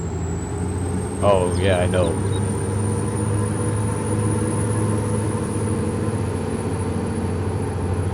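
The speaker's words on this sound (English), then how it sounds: "Love the sound of this truck." A steady, droning truck engine in Farming Simulator 22 rumbles continuously at close range, with a brief spoken remark near the start and a thin high whine above.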